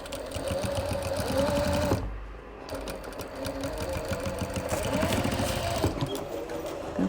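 Sewing machine stitching along a zipper to finish the seam, running steadily and loud with a short pause near the two-second mark before resuming its rapid mechanical chatter.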